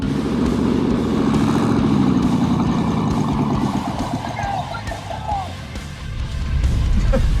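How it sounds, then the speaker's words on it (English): A V8 muscle car engine idles loud and close, a steady rumbling burble that dips briefly midway and then swells again. "I'm literally idling. I literally am not on the gas."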